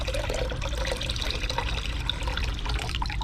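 Water is poured to fill a container about halfway for rendering bee comb into beeswax, a steady, close, rushing splash that runs without pause.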